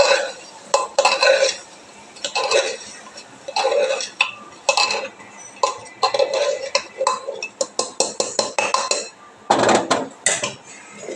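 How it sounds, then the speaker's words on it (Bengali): Coriander leaves being mixed into chicken curry, with a spoon scraping and clattering against the pot in quick irregular bursts, close and fairly loud. "এবার ভালো মতন ধনেপাতাটাকে একটু মিশিয়ে নেব"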